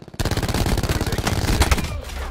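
Rapid automatic gunfire from a fast-firing weapon in Call of Duty Black Ops 4, with loud sustained bursts that carry on for about two seconds and then break off.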